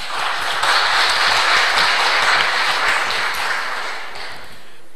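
Steady applause from a debate audience, sustained clapping that holds evenly for several seconds before tapering off slightly.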